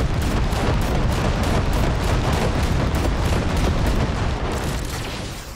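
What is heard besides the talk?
gunshots from the video game Cyberpunk 2077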